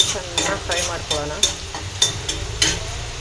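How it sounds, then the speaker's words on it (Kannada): Gourd frying in a pan with soaked tamarind, stirred in a quick rhythm of roughly seven scraping strokes over a steady sizzle, close and fairly loud. "ಚೆನ್ನಾಗಿ ಫ್ರೈ ಮಾಡ್ಕೊಳ್ಳೋಣ."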